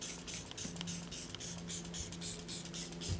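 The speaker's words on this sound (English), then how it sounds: "Just spray a little more in where the lug nuts are." Wheel-prep liquid sprays onto car wheels around the lug nuts in a rapid series of short hissing bursts, fairly quiet and close, with no speech.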